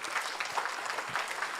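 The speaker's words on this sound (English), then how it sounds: "this is where I want your applause" An audience claps in a hall, a dense, steady patter of many hands at moderate distance, continuous throughout with no voices standing out.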